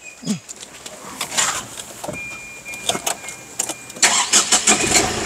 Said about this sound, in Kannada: ಈ ಗಾಡಿ ಸ್ವಲ್ಪ ಇಂಜಿನ್ ಆನ್ ಮಾಡಿ ಸರ್